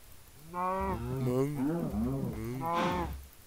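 A Minecraft cow moos in a long, low, wavering call from the game, loud and close, with no talk over it.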